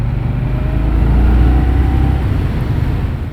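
An Indian Scout Bobber Twenty motorcycle accelerates on a test ride, its engine droning loud and close with a steady rising rumble mixed with wind.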